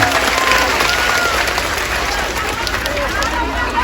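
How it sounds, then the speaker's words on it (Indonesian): A crowd applauds at a Taiwanese Muslim religious gathering in a Taichung park, a dense, steady wash of clapping that holds loud and fairly close for several seconds with some murmuring voices mixed in. "Sekali lagi tepuk tangan untuk Banser Taiwan"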